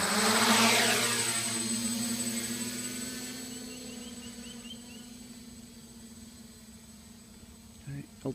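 A Reptile X500 quadcopter drone on cheap 9x47 propellers hovers in altitude hold, its steady whirring motor drone holding a constant pitch, loud at first and easing slightly as it settles, with a couple of faint clicks near the end.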